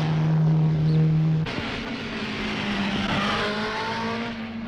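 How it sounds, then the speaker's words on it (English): Ford Falcon, Holden and Alfa Romeo race cars compete on a circuit during a twelve-hour endurance race, a loud engine note holding steady then abruptly dropping as one car passes, followed by several engines droning on together. "It's a battle between Holdens, Alfa Romeos and Ford Falcons."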